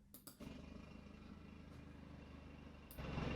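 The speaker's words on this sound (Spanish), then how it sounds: "vamos a ver cómo suena este coche, ¿vale? Porque eso sí que a mí me interesa para escucharlo, el primer arranque del coche" A Mercedes-AMG A 45 S starts up: a couple of brief cranking bursts lead into the engine catching and settling into a steady rumbling idle, which swells louder near the end.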